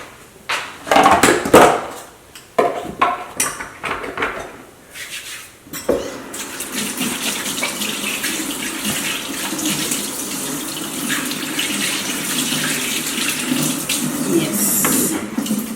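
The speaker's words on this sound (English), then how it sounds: "My hands, I will wash real quick and then come back to this." Hands are rinsed under a running kitchen tap, with a few clattering knocks of dishes at first, then a steady, close rush of water that continues to the end.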